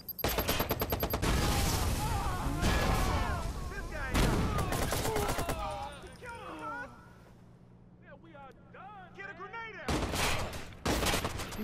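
Gunfire in Watch Dogs comes in repeated loud bursts and rapid volleys, with a quieter gap in the middle, while voices talk over and between the shots.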